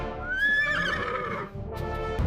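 A horse whinnies loudly with a rising, wavering call, followed by snorting and shuffling sounds close by.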